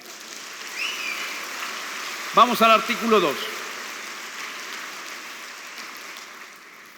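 Audience applause, a steady wash of clapping that fills the room throughout, with a voice speaking briefly over it midway.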